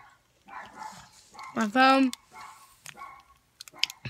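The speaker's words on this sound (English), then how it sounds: "That's my dog." A dog gives a short burst of barks and yips partway through, close by, between stretches of a person talking indoors in a small space such as a closet.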